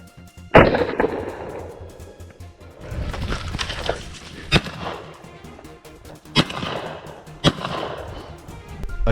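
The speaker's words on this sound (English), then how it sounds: "A gunshot tore through the silence once more." Gunshots ring out during a wild boar hunt in tall grass. Several sharp, loud bangs are spread over a few seconds against a rough, rustling background.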